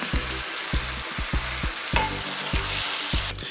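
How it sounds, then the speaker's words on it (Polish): Melon sizzles and fries in browned caramel in a pan, a steady hiss broken by regular rhythmic scraping strokes as it is stirred, close and alone with no voices. "Kiedy karmel jest już brązowy, wrzucamy naszego melona."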